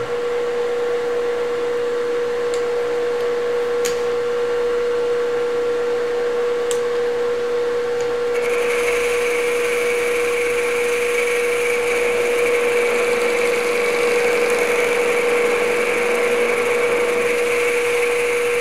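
Grizzly G0776 lathe boring out a tailstock bore, a steady close machine whine with a continuous hum and a brighter cutting tone that rises partway through and holds to the end, no talking.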